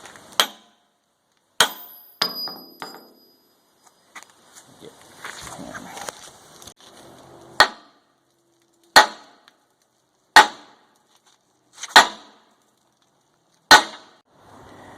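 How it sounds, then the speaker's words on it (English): Sharp metal clangs as an old pin is hammered to drive a bushing out of a loader bucket, about seven loud, evenly spaced strikes with some shuffling noise between them. "this is what you use, your old pin, since you have a new one, to drive the bushing out"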